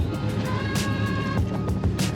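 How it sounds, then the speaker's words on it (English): A Porsche 911 (996) Turbo's engine hums steadily from inside the cabin, its low drone rising and falling with a faint gearbox whine and a few soft clunks. "This car lulls kids to sleep with the gearbox and engine sound"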